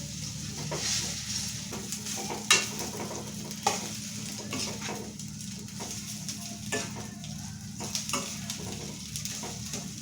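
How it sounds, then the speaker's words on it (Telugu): Pasta is stirred through a pan of spices with salt and chili powder, giving a continuous low sizzle under scraping strokes of a spoon and a couple of sharper clanks against the pan, with no talking. "పాస్తా వేసి మంచిగా పాస్తాకు ఉప్పు కారం అన్నీ కలిసేటట్టు బాగా మంచిగా కలుపుకోవాలి"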